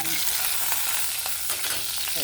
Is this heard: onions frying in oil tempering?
yes